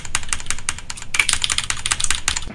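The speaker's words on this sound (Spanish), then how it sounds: "Voy a intentarlo con el teclado." Rapid, steady clatter of keys on a computer keyboard, close and fairly loud, continuing without pause and with no voices.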